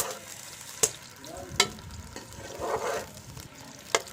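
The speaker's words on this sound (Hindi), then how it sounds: "इसमें हम डाल देंगे प्याज, इसको अच्छी तरह हिलाएंगे।" Onions frying in hot ghee for a Pakistani deghi chicken, a steady close sizzle broken by a few sharp clanks of a spoon stirring against the pot, with no talking.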